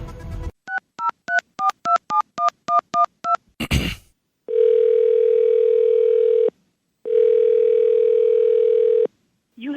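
A telephone dials out with a quick run of touch-tone beeps, followed by a short click and two long, steady ring tones separated by a gap, placing a call to Water Country guest relations.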